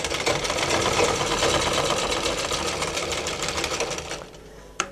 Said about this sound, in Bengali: ঠিক এই সেলাই বরাবর আমি আরও একটা সেলাই করব